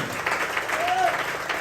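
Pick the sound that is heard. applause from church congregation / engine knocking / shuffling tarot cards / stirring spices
applause from church congregation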